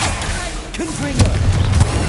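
A Confringo fire spell bursts in Hogwarts Legacy on PS5, a muffled boom with rumbling low energy that swells and lingers over a busy game soundscape.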